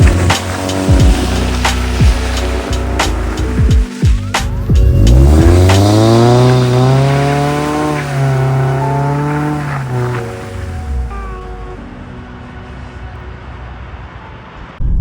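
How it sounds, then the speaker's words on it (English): A 2024 Subaru Impreza RS with all-wheel drive launching hard from a standstill in a snowy parking lot, loud engine revs climbing and falling as tires spin, close and continuous before easing off. "I'm going to get a little shot for you guys right here in the parking lot to show you exactly how it launches."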